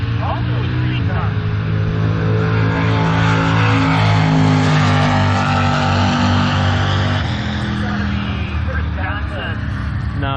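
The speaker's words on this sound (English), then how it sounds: "Watch how good that car leaves. It's a street car." A street car leaves the line in a bracket drag race, its engine revving hard and roaring loudly as it accelerates away. An announcer talks over it the whole time.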